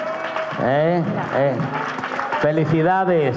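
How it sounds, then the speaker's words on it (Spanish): Audience applause at a charity flamenco parade in Chipiona, a steady wash of clapping running under a loud announcer's voice. "Un aplauso para vosotros."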